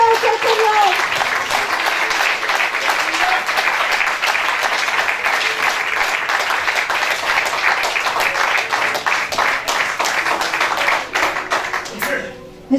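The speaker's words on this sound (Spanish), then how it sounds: "Dale un fuerte aplauso al Señor." A church congregation claps loudly and steadily for about twelve seconds at a Spanish-language worship service, dense and sustained, then trails off at the end with some voices in the mix.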